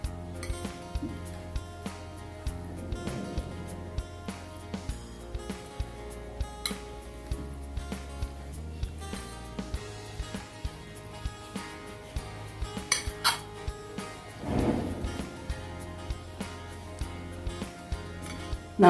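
Spoon stirring lemon juice into ingredients in a bowl, giving light, irregular clinks and scrapes against the dish throughout, over a faint steady musical background.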